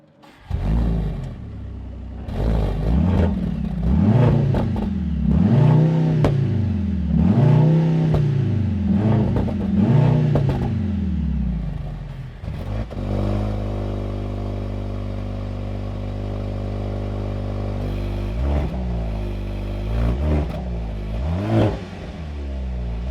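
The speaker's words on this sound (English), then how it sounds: "let's hear how they sound" Mercedes-AMG GLC 63 and GLC 43 Coupe engines revving loudly in a series of rising and falling throttle blips, then a steady high idle drone before two more short revs, close up with no talking.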